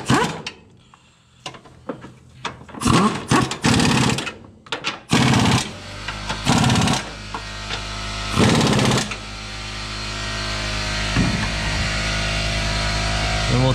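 Short bursts from a power tool run the engine mount bolts down on a Mazda 3 during a left-side motor mount replacement, a string of buzzing whirs with brief pauses, then a longer steady mechanical hum.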